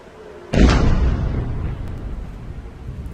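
A missile explosion in central Israel lands as a single sudden, loud boom followed by a long rumbling decay that fades over a few seconds.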